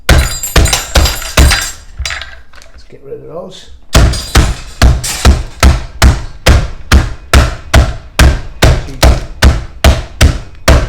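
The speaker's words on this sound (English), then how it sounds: "we're going to smash them like this. Got my old meat hammer." Repeated heavy thuds of a meat hammer smashing cucumbers, about a dozen strikes in a steady rhythm, close and loud, after a brief stretch of talking.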